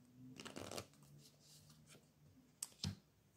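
Tarot and oracle cards are shuffled quietly up close, with a soft riffling burst early and a few crisp clicks and snaps of the decks near the end, in an otherwise hushed room.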